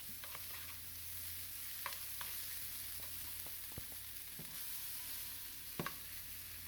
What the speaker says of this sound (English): you want to caramelize the onions and the garlic a little